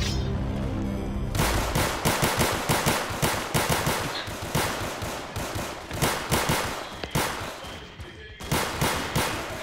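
Rapid automatic gunfire from a zombie survival video game, dense bursts of shots firing almost continuously and loud throughout, with no break between volleys.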